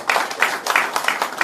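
Audience applause at a political event, a dense crowd clapping steadily in repeated swells, fairly close and loud, with no speech over it.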